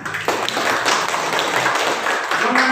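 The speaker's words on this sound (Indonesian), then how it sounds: "Ya, berikan tepuk tangan." Classroom applause from students during a history lesson, a brisk patter of many hands clapping steadily for a few seconds with faint voices underneath.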